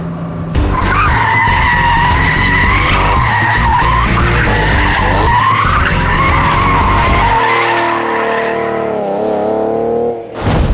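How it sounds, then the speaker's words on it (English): A car engine roars at high revs as tires squeal in a long, loud skid during a clutch kick turn, fading into lower engine rumble. "This is the clutch kick turn, boys. Turning in hard, clutch in, power on, clutch out hard."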